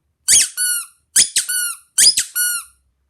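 Rubber ducky fidget toy squeezed three times, each press giving a sharp two-part squeak, loud and close, with short pauses between and no talking.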